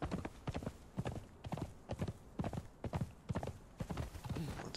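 Horse hooves pound in a fast, steady galloping rhythm in the video game Conan Exiles, several beats per second, close and continuous with no talking over them.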